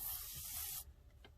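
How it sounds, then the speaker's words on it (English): A quick burst of ink from a spray bottle nozzle, a bright close hiss lasting under a second, then faint shuffling. "but let's spray it a little bit."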